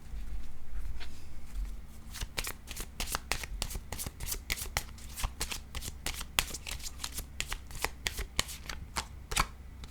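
A deck of playing cards is shuffled and handled up close: a soft riffle at first, then a long run of crisp, rapid card flicks and snaps at an uneven rhythm, with no speech.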